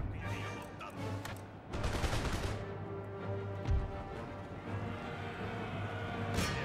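Musket volleys in Empire: Total War, crackling ragged bursts of massed fire rising in waves over a low battlefield hum, fairly faint and distant-sounding.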